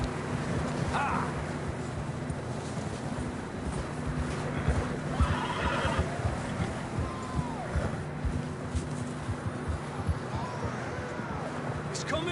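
Horses whinny in a video game amid a steady background bed, with brief neighs rising over ongoing game sounds and voices talking throughout.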